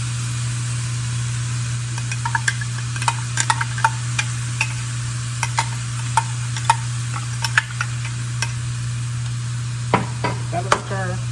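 Ground meat with a spice mix for a picadillo enchilada filling is stirred in a frying pan, with a soft continuous sizzle and scattered light ticks and scrapes of the utensil over a steady hum.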